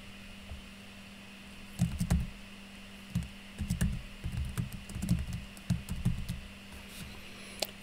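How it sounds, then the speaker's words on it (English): Light, irregular clicking of keys on a computer keyboard while entering items into a POS system, quiet and close, in short clustered bursts with brief pauses and steady background hum. "and I'll type all this in."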